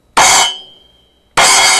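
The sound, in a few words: 10-inch splash cymbal struck, choking quickly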